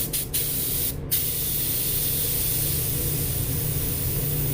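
Iwata LPH80 spray gun laying down clear coat at just over 1 bar, a loud steady broadband hiss of air and atomized lacquer after two short opening bursts.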